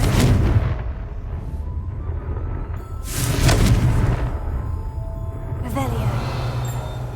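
Confringo blasting spell in Hogwarts Legacy, a series of booming blasts with rumbling low tails: one at the start, a bigger burst midway and a third near the end over steady game ambience.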